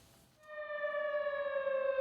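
An air raid civil defense siren sounds across Ulleung County. A quiet moment gives way to a loud, sustained wailing tone that holds steady and slowly bends in pitch, with no voices over it.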